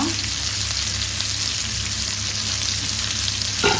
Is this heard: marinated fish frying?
yes